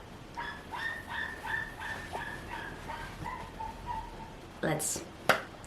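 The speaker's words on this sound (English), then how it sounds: "Can I hear the puppy?" A young puppy whimpers and yips in high, thin cries, with a sharper yelp near the end, close by and fairly faint.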